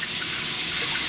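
Cold tap water running steadily into a sink, a continuous close hiss and splash lasting the whole moment, alone without talk.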